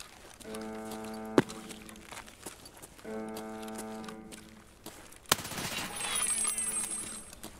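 Gunfire in Escape From Tarkov comes as a few sharp isolated cracks spread across several seconds, with tonal mechanical hums and metallic rattling between them and one loud bright blast near the end, no one talking.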